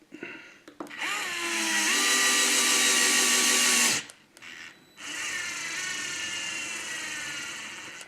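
A DeWalt gyro cordless screwdriver whines steadily as it drives screws into a hobby RC kit, its motor pitch rising and dipping with speed changes, briefly stopping, then running again close up with no talking.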